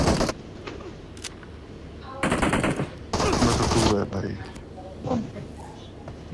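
Bursts of automatic gunfire during a PUBG Mobile match on the Library map, two loud sustained volleys plus scattered single shots, with a player talking over and between them.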